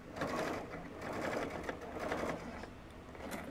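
A sewing machine stitches a puff quilt, its rapid mechanical whirring running in steady bursts at moderate volume with brief changes in pace.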